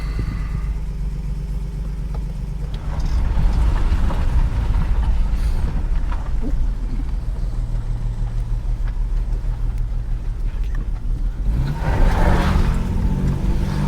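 An old car running on a fuel can under the bonnet drives around the block, its engine a steady close rumble that swells with revving around the middle of the drive and again near the end.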